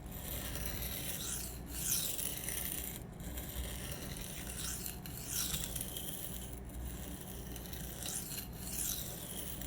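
A Spyderco Sage 5 knife with an M4 steel blade is drawn freehand across a sharpening stone, making repeated rhythmic rasping swipes close up in a steady back-and-forth.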